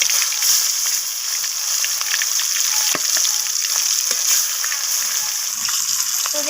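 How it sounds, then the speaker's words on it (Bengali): Rohu fish pieces sizzle loudly in hot mustard oil in a wok, a dense, continuous hiss with scattered spitting crackles, heard up close without talk. "এরপর আমি মাছগুলোকে তেলের মধ্যে ছেড়ে দেব।"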